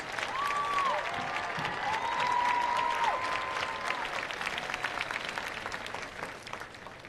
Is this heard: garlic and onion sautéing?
no